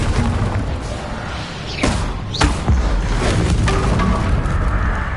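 The Confringo explosive spell in Hogwarts Legacy bursts with booming blasts and sharp whooshing streaks, a few loud thuds in quick succession over a constant noisy game backdrop.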